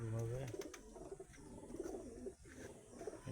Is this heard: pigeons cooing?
yes